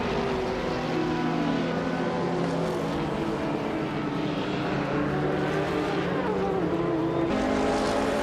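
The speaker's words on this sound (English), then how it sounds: "Maya is currently in 2nd place, driving a 1989 Ford RS 200 IMSA GTO." A 1989 Ford RS 200 IMSA GTO race car in a racing video game holds a steady, loud engine drone throughout, a continuous harmonic roar that barely changes pitch.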